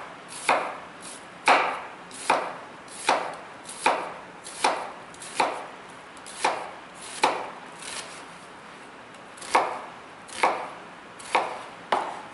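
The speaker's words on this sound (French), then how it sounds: "Donc, on va venir faire des petites lamelles comme ceci." A chef's knife slicing an onion into thin strips on a cutting board: crisp, evenly spaced chops roughly every second, close and clear with no talking.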